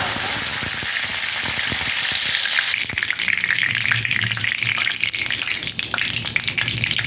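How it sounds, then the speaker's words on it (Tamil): Curry leaves dropped into hot oil for plantain flower vada burst into a loud, close hiss that shifts to crackling, spitting sizzle with sharp pops, with no talk. "எண்ணெய் நல்லா காயுது. இது கூட கொஞ்சம் கருவேப்பிலை போடுங்க."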